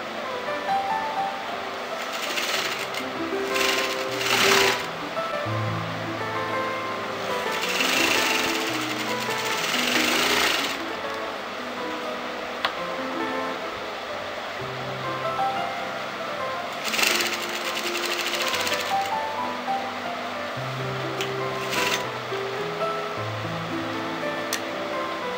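A sewing machine stitching fabric around a collar placket V, its motor running in steady mechanical bursts with short pauses where the work is turned, close and fairly loud throughout.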